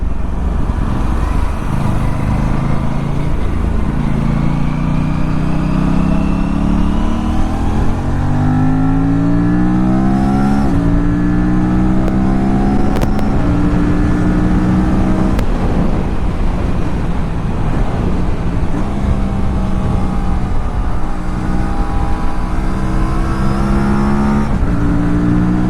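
A motorcycle engine revs and pulls through the gears on an open road ride, a loud, close drone rising and falling in pitch with wind rushing over it.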